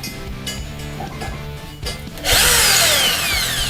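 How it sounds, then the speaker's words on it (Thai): A power drill spins up loudly and bores steadily into a workpiece through a pre-drilled pilot hole, after a couple of seconds of quieter handling clicks and knocks. "เราได้เจาะนำไปแล้วนะคิดว่ามันน่าจะเจาะได้แล้ว"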